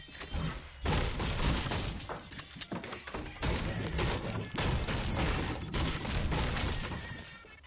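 Fortnite battle royale gunfire: rapid, dense bursts of shots and impacts crackle almost nonstop, loud and close, with only brief pauses between volleys.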